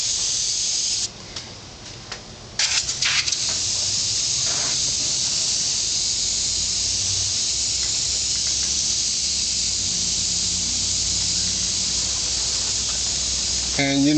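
An airbrush sprays paint onto a piece of art with a close, continuous airy hiss that runs almost unbroken, dipping only briefly near the start.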